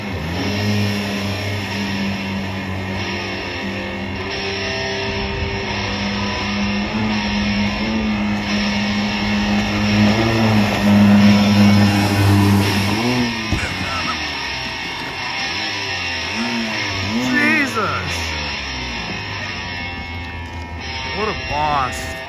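A Yamaha off-road vehicle engine revs hard and repeatedly in surging bursts, loud and close, with excited voices talking over and between the revs outdoors.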